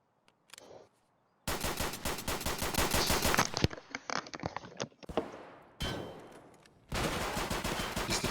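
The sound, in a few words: Beretta M9A3 pistol gunfire from the Escape from Tarkov video game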